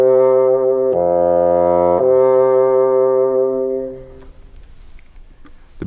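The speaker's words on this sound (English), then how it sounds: "Like the oboe, the bassoon is a woodwind instrument and part of the double reed family." A bassoon with its double reed holds a low sustained note that steps to a new pitch, rich and close, then stops, leaving a quiet room.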